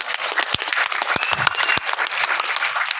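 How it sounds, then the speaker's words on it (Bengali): An audience breaks into loud, sustained applause, many hands clapping densely and close throughout. "একবার জোরদার নিজেদের জন্য হাততালি।"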